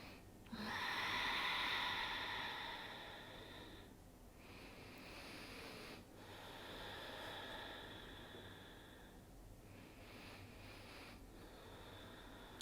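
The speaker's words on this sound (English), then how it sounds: "Take a deep breath in" A slow, deep inhale during gentle yoga practice, heard close and soft as a breathy rush, followed by quieter breathing swells that fade in and out.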